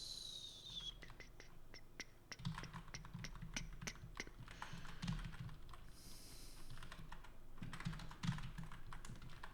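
Rapid bursts of clicky keystrokes on a computer keyboard, fairly faint and close, pausing briefly before more typing resumes.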